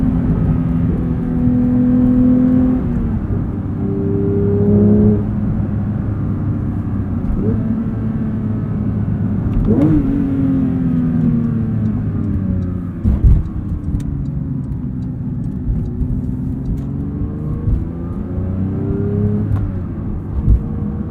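A 2022 Porsche 911 GT3 with manual gearbox heard from inside while driving: the engine drones steadily, rising and falling in pitch through revs and gear changes, with road and wind noise and a few brief knocks.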